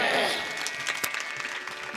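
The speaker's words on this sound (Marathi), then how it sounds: "गुणीजनांसाठी टाळ्या वाजवा" Audience clapping at a women's devotional gathering, a dense spread of applause that starts loud and eases slightly while continuing steadily to the end.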